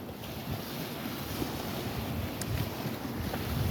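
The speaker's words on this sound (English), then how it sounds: "Just hearing the water crashing up against the" Small waves wash against a pier at Khlong Wan, a continuous rolling surf mixed with heavy wind buffeting the microphone, steady and close with no voices.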